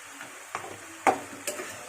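Cumin seeds hitting hot oil: a faint, low sizzle punctuated by three or four sharp crackles and stirring scrapes, close and quiet.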